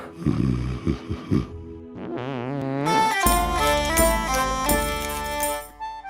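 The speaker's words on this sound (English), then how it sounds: "If players go to sleep drunk, we change the snoring sounds because obviously you're a bit inebriated" A drunk sleeping character in the pirate video game Sea of Thieves snores in a warbling, exaggerated way, with several loud rumbling breaths followed by a wobbly tonal drone, close and alone with layered musical tones behind.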